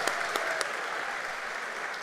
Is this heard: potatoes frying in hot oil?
no